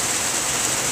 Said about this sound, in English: you could definitely hear the rain